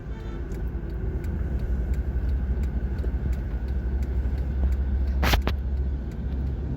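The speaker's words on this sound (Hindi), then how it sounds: "जीटी रोड पे भी ट्रैफिक काफ़ी ज़्यादा है" A car travels along the busy GT Road in Pakistan, a steady close engine and road rumble running throughout, with one brief sharp high-pitched burst partway through, likely a horn or squeal.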